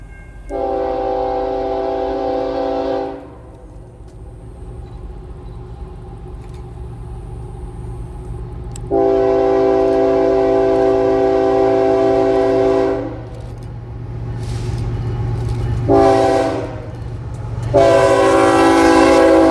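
An eastbound Norfolk Southern NS 284 freight train passes through Barton, sounding several loud chord horn blasts over a steady rumble of rolling cars, the final blasts growing closer and stronger; no talk.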